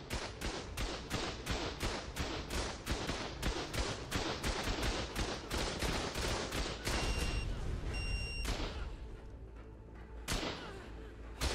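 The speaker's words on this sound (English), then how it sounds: "They have some auto turrets." Auto turrets in Ark fire off a fast, steady stream of sharp shots at a moderate distance, the bursts running for about eight seconds before a few scattered later pops, with voices talking over them.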